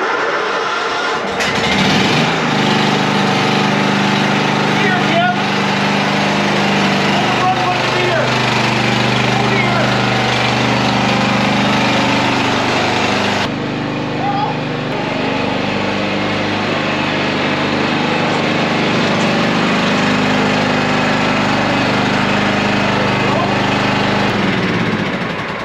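A riding mower's engine runs steadily and loudly throughout, a constant low rumble with a brief shift partway, and a voice speaks over it.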